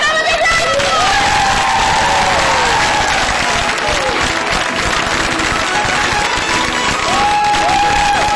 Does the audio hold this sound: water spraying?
no